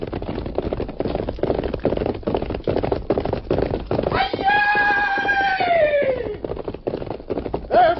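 A horse gives a loud, drawn-out whinny midway, set against busy, rhythmic thumping and scuffling, with brief voices underneath.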